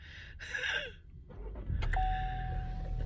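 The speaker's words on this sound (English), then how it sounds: "one of the coolest features is in this car is this, the engine start button." A car engine starts with a push start button: a short chime and a mechanical whir, then a low, steady idle rumble settles in nearby, with no talking.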